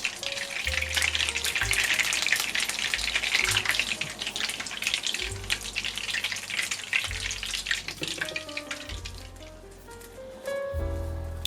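Butter browning in a pan, cooked a little darker than usual, gives off a steady close sizzle and bubbling crackle that holds loud throughout, with a few soft utensil sounds near the end and no talk.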